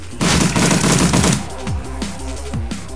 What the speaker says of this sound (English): Full auto fire? Full auto fire, let's go.